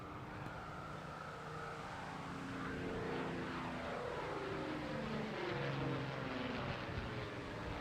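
Vintage fighter aircraft PZ865 flies past at the Bournemouth Air Festival, its propeller engine a broad distant drone that swells steadily as it draws nearer.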